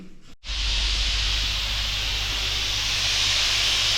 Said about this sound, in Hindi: गोश्त गल चुका है और इसकी अब ये भाप निकल रही है